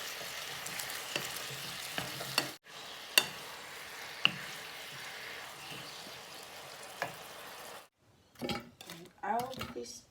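Capsicum cooks in a pan of Thai fried fish sauce, sizzling steadily with scattered utensil clicks and scraping, broken by a brief pause and then a few louder stirring knocks near the end.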